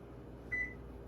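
An oven's control panel gives a single short electronic beep as its timer is set, faint and brief over a low steady hum.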